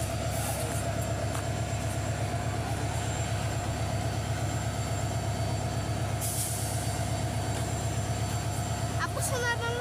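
The Parjatak Express train rumbles steadily at a busy Chittagong railway station, with a continuous mechanical drone, a hiss of air brakes and squealing metal near the end.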